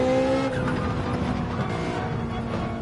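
Ferrari 458 Italia in Gran Turismo 7 at Spa, engine note dropping under quick braking, with a steady game-engine roar and faint tire scrub running continuously throughout.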